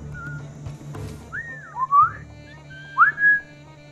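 A few short, rising whistles from a character in the pirate video game Assassin's Creed IV, clear and close over a quiet low background hum.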